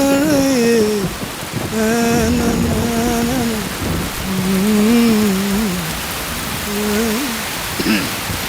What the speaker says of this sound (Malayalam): മഴയേ.